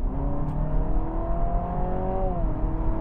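A Honda Civic e:HEV hybrid accelerating hard in sport mode gives a steady rising engine drone with stepped harmonic tones, like virtual gear changes, one dropping as a shift near the end, heard from inside the cabin without talk.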